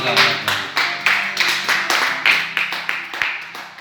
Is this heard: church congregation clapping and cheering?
yes